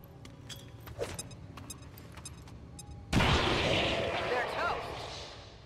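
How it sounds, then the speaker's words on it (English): A grenade blast in the video game XCOM 2 erupts suddenly as a loud, broad burst partway through, then rumbles and crackles as debris settles over a couple of seconds, following quiet game ambience and faint clicks. "So we're gonna throw a grenade. We're hopefully gonna hit all three of them."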